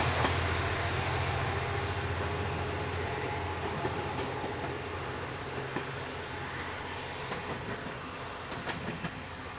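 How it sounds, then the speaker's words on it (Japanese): A diesel-hauled train on the Tosa Line in rural Kochi, Japan, rattles past nearby with a steady rumbling roar and rhythmic wheel clatter, slowly fading as it moves away. "土山線は電車ではなくディーゼル機関車です。"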